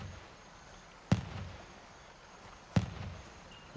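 Two sharp grenade blasts in the military shooter Gray Zone Warfare, each a sudden bang with a short rumbling tail, spaced about a second and a half apart over low background noise.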